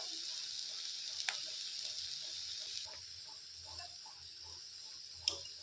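Sesame fritters frying in a shallow layer of oil over low heat, giving a steady, quiet sizzle with a few faint pops and clicks of a utensil.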